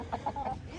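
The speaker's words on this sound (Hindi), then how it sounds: "ये वाली जापानी मुर्गी आप लोगों को याद होगा," A Japanese hen gives a few short, close clucks in quick succession, soft and nasal, over a quiet farmyard background.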